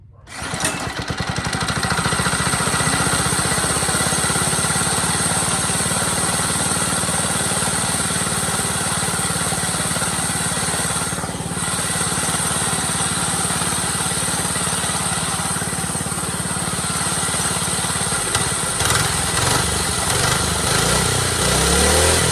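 A small go-kart engine runs steadily at a constant, buzzing pitch for over twenty seconds, loud and close, with a brief shift in tone near the end.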